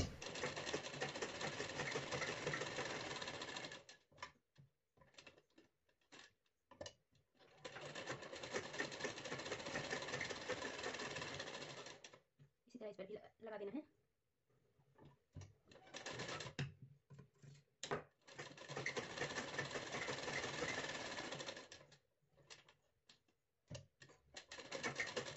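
An electric sewing machine stitches down both sides of double-folded blouse fabric, running in several steady whirring bursts separated by short pauses, close and fairly loud.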